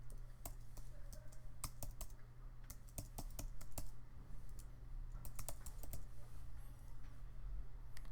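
Username and password being typed on a computer keyboard, close and clear, with irregular bursts of crisp key clicks and short pauses between words over a steady low hum.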